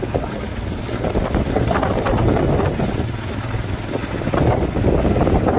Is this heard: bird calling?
no